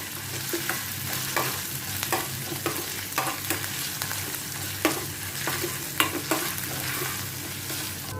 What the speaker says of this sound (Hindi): इन सभी को थोड़ा मैं सौते करती हूँ ताकि इनका कच्चापन निकल जाए